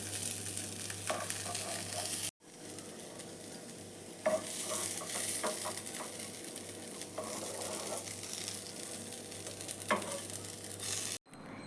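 Prawns frying in a pan give a steady, close sizzle throughout, with scattered spatters and the scrape of stirring, broken by two brief dropouts.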